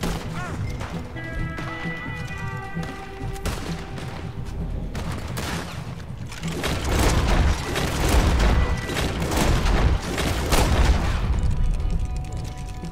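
Gunfire in the Red Dead Online video game: a dense run of repeated shots and booms that grows heavier and louder partway through, over game music, with some speech in the background.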